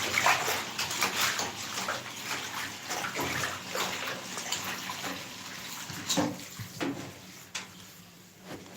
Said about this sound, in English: I'm just going to bleach the bath out quickly.